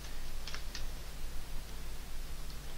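Faint keystrokes on a laptop keyboard while typing a resume, a few sparse, quiet clicks scattered over a steady low background hum.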